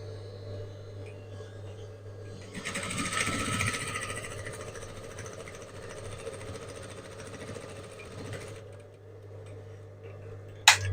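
A sewing machine stitches down the waist welt pocket of a bolero jacket with a high built-up neckline, a steady mechanical whir running for about six seconds over a low hum, then stopping, with a sharp click at the end.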